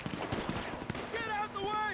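Quick bursts of close gunfire in a GTA V shootout between gangs, a flurry of sharp shots followed by a voice shouting over the last few rounds.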